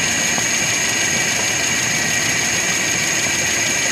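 A Nissan Z24 engine runs at a steady idle with a constant, dense mechanical drone and a high whine layered over it, close up and fairly loud, with no change in pace throughout.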